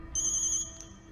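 A mobile phone ringtone chirps as a bright, steady electronic tone for about half a second, then a shorter blip follows, with a faint background hum throughout.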